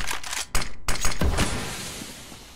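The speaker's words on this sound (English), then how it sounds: "Going flashbang." A flashbang grenade goes off in a competitive shooter match, with a few sharp metallic clatters and bangs followed by a bright ringing burst that trails off, with game noise around it.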